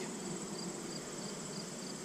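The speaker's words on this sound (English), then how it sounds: "Careful, I got bees on me." Bees swarm around an open Omega beehive on a hot, sunny day, a steady close insect buzz droning continuously without pause and no talking.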